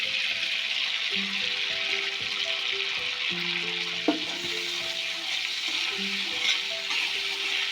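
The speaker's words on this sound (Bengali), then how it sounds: "আমি একই তেলের মধ্যে ফোড়ন দিয়ে দেবো।" Whole spices tempering in hot oil in a pan, the same oil just used for frying prawns, give a steady, even sizzle that runs through the whole stretch, with a faint steady hum underneath.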